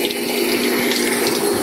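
Water from a deep-well water pump gushes steadily into a container, a loud, continuous hissing splash with a faint mechanical hum beneath and no speech.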